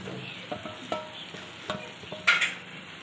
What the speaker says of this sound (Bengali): দিয়ে একটু হালকা হালকা করে নাড়িয়ে নেবো